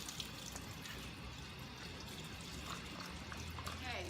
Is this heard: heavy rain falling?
no